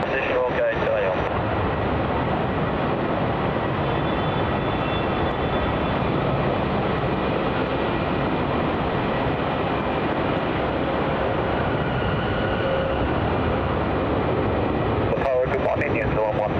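Boeing 737-800 departing runway 34 at Melbourne Airport, a loud, steady jet engine roar that holds throughout, with radio chatter faintly under it.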